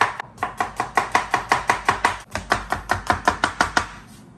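Red onions chopped on a cutting board with a knife, about twenty crisp, evenly paced strokes in a fast steady rhythm with one brief pause, loud and close with no talking.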